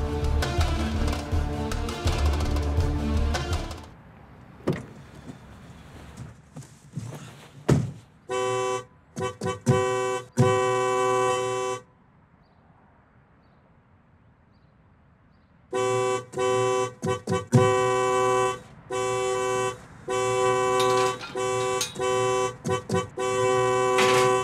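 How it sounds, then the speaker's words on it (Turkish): A car horn honks repeatedly in short and long blasts, loud and close, with a pause of near silence partway through. "Ne basıp duruyorsun kornaya?"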